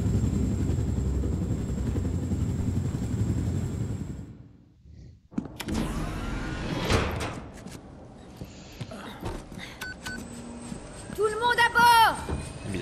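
A helicopter rotor drones in Wolfenstein The New Order, heavy and low for the first few seconds, then cuts out. After that come scattered thumps, mechanical clatter and game sound effects, with people talking.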